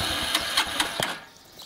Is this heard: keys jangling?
no